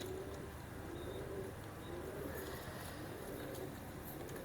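A female Teddy pigeon coos in low, soft, repeated murmurs close by, set against a steady wash of background noise and occasional faint chirps.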